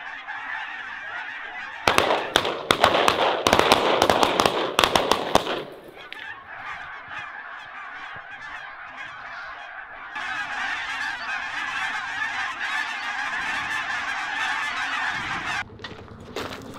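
Geese honk loudly and repeatedly overhead during a goose hunt. Early on, a cluster of sharp cracks breaks through the calls, and the honking flock carries on steadily afterward.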